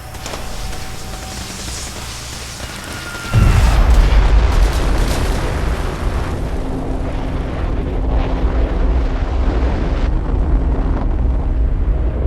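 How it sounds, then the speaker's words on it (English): A heavy, booming engine test firing in the Fallout 4 video game bursts in suddenly, then settles into a sustained loud roar and rumble that fills the rest of the stretch, with no talk over it. "Engine firing."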